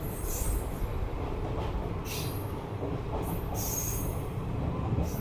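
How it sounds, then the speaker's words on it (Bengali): A passenger train pulling out at New Cooch Behar Junction, a continuous loud rumble of rolling wagons with intermittent high wheel squeals cutting through. "আর ওদিক থেকে একটা ট্রেন হয়তো ছেড়ে যাচ্ছে।"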